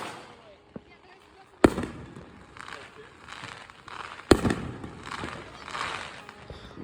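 Fourth of July fireworks explode in two sharp, loud booms a few seconds apart, each followed by a trailing crackle, with voices nearby.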